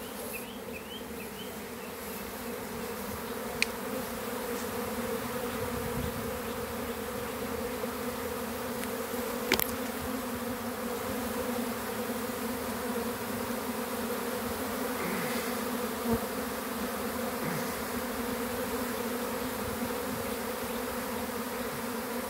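A swarm of bees buzzes around a box in Baltimore City, a dense, steady droning hum that stays close and loud throughout with a few faint clicks and knocks.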